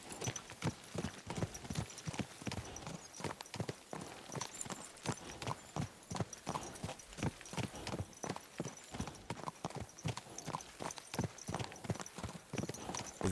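Horse hooves clip-clop steadily in Kingdom Come: Deliverance 2, a continuous rhythmic gait of sharp, fairly close hoofbeats on hard ground that keeps going without talk.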